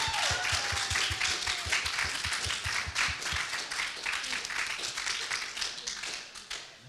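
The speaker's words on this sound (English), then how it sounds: "join me in giving these two awesome women a big round of applause" Applause from a crowd, a dense patter of clapping at steady loudness, with some rhythmic tapping and faint voices mixed in.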